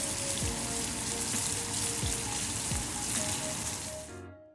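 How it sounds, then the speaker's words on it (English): Catfish fillet sizzles steadily in a hot skillet, a dense continuous frying hiss with crackling pops, close and loud, cutting off abruptly at the end. "Usually I cook the fish about 3 minutes on each side"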